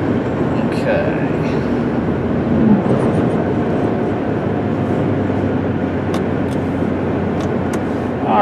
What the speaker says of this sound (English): there we go, all the way up to about 55 miles an hour, no problem, nice and smooth, shifts nice and smooth, rides nice and smooth